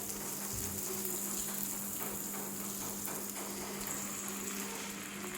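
Onions cooking in melted butter just after half a glass of water is added, for Bhutanese ema datshi, give a steady, even sizzle and hiss that runs unbroken throughout, with no voices.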